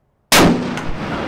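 One close, loud revolver shot, fired with the hammer cocked, cracks sharply and then rings out in a decaying tail.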